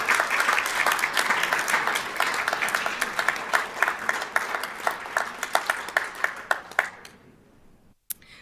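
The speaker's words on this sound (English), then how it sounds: "we want to give her a round of applause" An audience at a school district governing board meeting gives a round of applause, dense clapping that thins into scattered individual claps before stopping abruptly, followed by a brief sharp knock.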